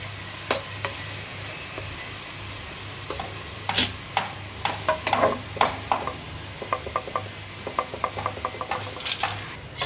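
Onions fry in oil for pulao, a close, steady sizzle broken by a run of irregular sharp clicks and scrapes from stirring.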